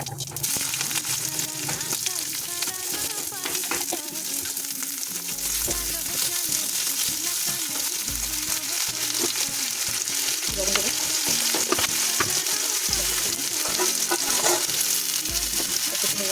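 Cumin seeds and vegetables, including potato, jackfruit seeds and stalks, fry in hot oil in a wok. A loud, continuous sizzle is broken by repeated stirring scrapes and clatters over the whole stretch.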